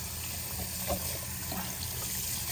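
Cold water runs from a tap, a steady close splashing rush with a faint tonal hum, holding even for the whole stretch with no voices.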